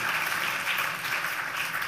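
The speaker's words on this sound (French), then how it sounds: "Antoine, qu'on peut applaudir encore" An audience at an awards ceremony applauds Antoine for his film, a continuous wash of clapping at a steady, fairly loud level with no speech over it.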